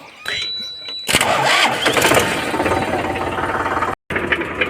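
A vehicle engine is cranked with the electric starter after the key is switched on. There is a short whirr, then it catches and runs loudly and roughly, with a brief dropout near the end.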